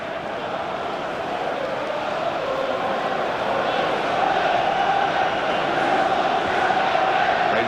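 Simulated stadium crowd in the video game FIFA 14 roars in a steady, dense wash of cheering and chanting that swells slightly toward the end, with no clear talk over it.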